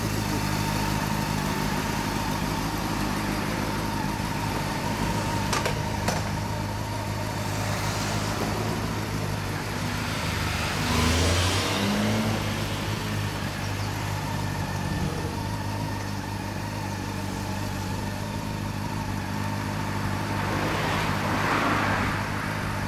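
A Honda CB400 Super Four Hyper VTEC Revo (NC42) motorcycle with a Mugen exhaust idles steadily at close range, with a rough mid-pitched rumble that swells slightly now and then over faint background noise.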